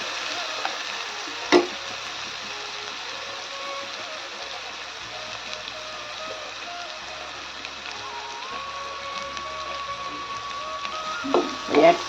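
Ridge gourd sautéing in a pan: a continuous sizzling hiss runs throughout, with a sharp utensil knock near the start and a few stirring clatters at the end, close and with no talking.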